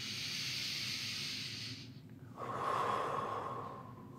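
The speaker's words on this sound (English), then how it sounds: "Two more breaths." Deep breathing during a leg stretching exercise: a long, airy exhale hiss followed by a slow inhale, close and steady with no talk.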